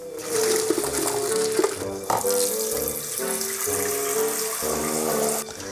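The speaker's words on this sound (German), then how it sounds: "Da lasst ihr dann mal ordentlich schön kaltes Wasser reinlaufen, dass die Eierchen sich schön erschrecken" Cold tap water gushes into a pot of freshly boiled eggs, a loud, close splashing stream with shifting gurgling tones as the pot fills, briefly interrupted and then running on.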